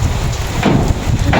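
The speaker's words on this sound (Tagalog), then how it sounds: "bigla pong lumakas ng ulan" Rain suddenly pours down hard outdoors as a dense, steady hiss that fills the whole moment with no voices.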